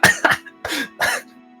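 A person coughs several times in quick, harsh bursts, close and fairly loud, the last coughs trailing into a brief throat-clearing rasp.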